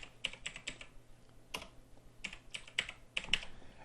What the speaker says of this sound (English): Now I can either type on my keyboard or type up here.